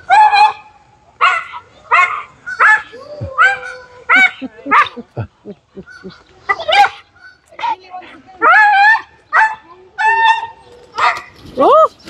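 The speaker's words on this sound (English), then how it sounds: "The dog doesn't like the geese." A dog barks repeatedly at geese on an animal farm, a rapid, loud run of sharp yips and bow-wows with brief gaps between bursts, close to the listener.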